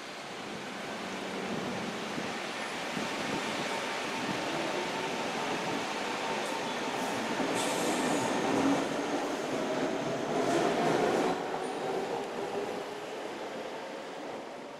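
Singapore MRT train at Choa Chu Kang station, a steady rumbling roll with rising and falling wheel and motor whine, moderately distant and heard alone with no talk.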